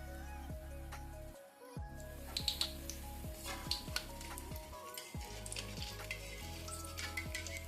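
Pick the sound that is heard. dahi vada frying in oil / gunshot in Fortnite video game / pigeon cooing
dahi vada frying in oil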